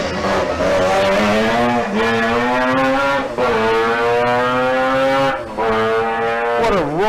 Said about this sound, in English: Is he burning out the car?